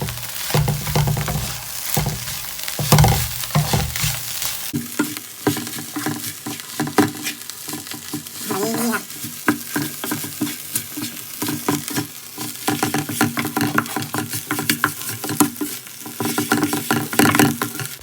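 Quail and holy basil leaves stir-fried in a pan over a gas flame, a steady close sizzle with repeated scraping and tossing strokes running throughout, no voices.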